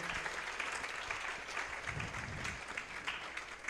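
Audience applause for the Maharaj at a Gujarati religious discourse gathering, a sustained, fairly even burst of many hands clapping that holds steady at moderate loudness across the whole stretch.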